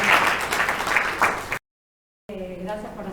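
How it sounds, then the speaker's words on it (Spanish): Applause from an audience at a book fair talk, a steady patter of clapping that cuts off abruptly into silence, followed by a person speaking. "Los recibimos a todos con un aplauso"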